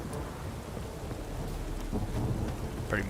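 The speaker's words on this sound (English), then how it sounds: "It's Velen, it's always storming" Steady rain with rumbling thunder in a Witcher 3 storm over the Velen region, a continuous dense wash with low rolls and no talk.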